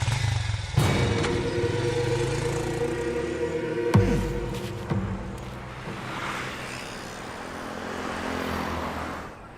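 A motorcycle being ridden, its engine droning steadily with tonal harmonics and a few sharp transient bumps along the way, the road noise continuous throughout with no talk.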